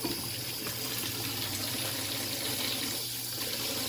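Tap water runs steadily into a sink as a man rinses his face mid-shave, a continuous broadband splashing close by with no talk.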